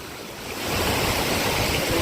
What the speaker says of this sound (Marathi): पावसाचं पाणी वाहत आहे शेतीमधून उत्तमरित्या